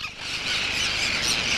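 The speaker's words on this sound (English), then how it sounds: "Birds are found in every nook and cranny, like this red-billed tropic bird." Red-billed tropicbird calling in the UAE, a loud, continuous shrill squawking and squealing that holds steady and close, with no speech.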